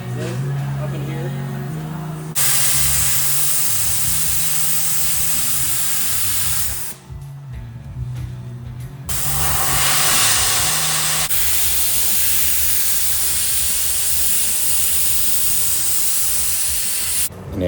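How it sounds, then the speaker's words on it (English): Sandblasting the engine compartment and flanges of a 1970 Super Bee: loud, continuous spraying hiss that cuts out for about two seconds and resumes, with a low drone underneath and a voice talking in the background. "We're gonna blast off the whole engine compartment, all the flanges and everything before we put the new piece on."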